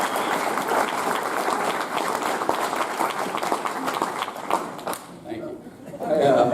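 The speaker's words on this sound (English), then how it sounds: "I left room for an applause break if you guys want to do that." An audience at a high school athletic hall of fame induction breaks into sustained applause with scattered chatter, a dense wash of clapping that fades after about five seconds, leaving quieter murmuring.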